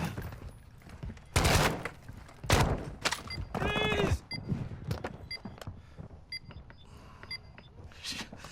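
Bursts of gunfire in Call of Duty during a hostage rescue, loud clustered shots and metallic clatter with ringing, under intermittent game voices.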